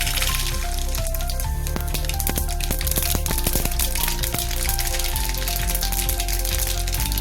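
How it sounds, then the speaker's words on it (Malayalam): Mustard seeds pop and crackle in hot oil while a ginger curry is being made, a dense, steady sizzle with sharp irregular cracks scattered throughout, loud and close with no talking. "അതേ എണ്ണയിലേക്ക് നമുക്ക് കുറച്ച് കടുക് പൊട്ടിച്ചു."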